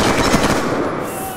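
Rapid gunfire in the video game Black Ops 2, a team deathmatch on the Meltdown map, with dense overlapping automatic bursts filling the short stretch, loud and close throughout.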